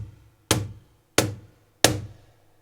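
Three sharp cajon tap strikes about two-thirds of a second apart, each a crisp slap with a short buzzy snare-wire rattle decaying behind it, close and clear with nothing else sounding.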